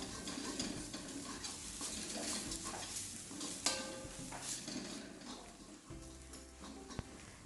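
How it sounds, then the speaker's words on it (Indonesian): A spice paste for Makassar soup fries in a wok, with soft continuous sizzling under the scrape and clink of a spatula being stirred around the pan. "Aduk-aduk terus sampai bumbunya berubah warna."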